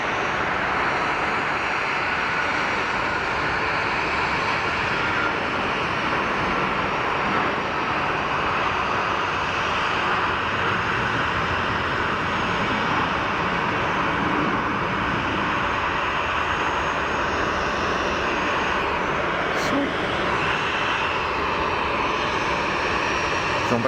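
An EasyJet jet airliner on its takeoff roll at Geneva Airport, heard from a distance as a loud, sustained engine roar that holds steady throughout, with a broad rushing hiss and faint voices underneath.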